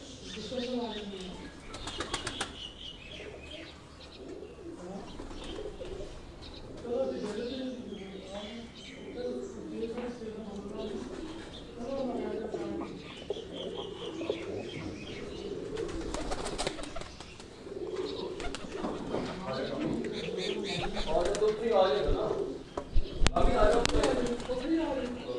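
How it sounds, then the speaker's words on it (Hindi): Salara breed pigeons coo in low, repeated throaty rolls close by, with occasional bursts of wing flapping, while people talk over the birds throughout. "सलारा कबूतर है जी"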